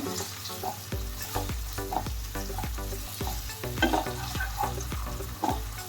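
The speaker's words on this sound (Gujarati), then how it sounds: "આ બધું જ નાખીને આપણે હલાવી લેવાનું છે સારી રીતે." A spoon stirs sauce for chilli potato chips in a sizzling frying pan, scraping in a steady repeated rhythm over a constant background sizzle, no talking.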